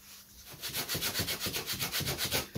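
Sandpaper rubbed by hand across a wooden piece for a 34-inch yoyo, working across the grain: a steady run of about fifteen rhythmic scratchy strokes, close and fairly loud, with no talking.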